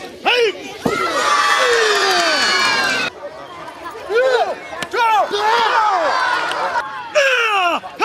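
Children shouting and cheering at a gendarmerie self-defence demonstration, loud excited bursts of high voices in several waves with brief lulls between them.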